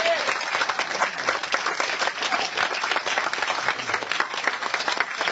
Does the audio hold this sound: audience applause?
yes